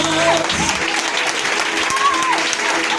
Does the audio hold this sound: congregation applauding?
yes